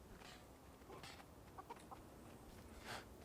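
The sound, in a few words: chickens clucking in the video game Guild Wars 2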